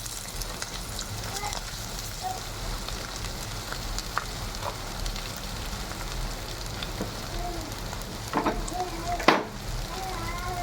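Curry leaves and mottikayalu, stuffed chillies, frying over high flame in a pan, a continuous close sizzle with occasional spatula scrapes and stirring clatter, a sharper knock near the end, while someone talks over it.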